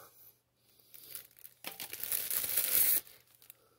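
A plastic packet from a USA Humanitarian ration accessory kit is torn open and crinkled up close, with quiet rustling building into a loud, sustained crackling tear that stops abruptly.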